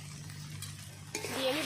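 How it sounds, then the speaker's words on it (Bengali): Turmeric, salt and Kashmiri chili powder fry in oil while being stirred, a soft low scraping at first, then a louder sizzle that builds near the end of the short stretch. "ভালো করে নেড়ে চেড়ে নেবো মশলাটা কষিয়ে নেব"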